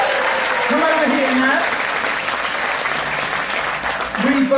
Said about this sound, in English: That's more applause than I've got from these people so far.